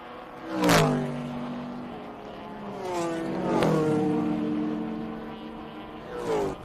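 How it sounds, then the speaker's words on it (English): A vintage Porsche race car roars past on the Indianapolis Motor Speedway, its engine note rising and falling through three loud pass-bys in a few seconds, heard alone with no talk. "there goes Tom McGlynn once again in that nimble little Porsche"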